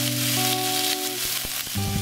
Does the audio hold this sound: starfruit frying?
yes